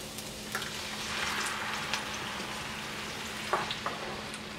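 Canned diced tomatoes hit a hot cooking pan, giving a steady soft sizzle and frying hiss with a few sharper splashes and stirring clatters, close and fairly quiet, no talking.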